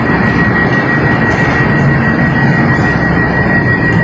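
A Romanian electric locomotive or train passing at a depot near Cluj-Napoca gives a loud, steady rumble with a thin whine held throughout, close and unbroken, no voices.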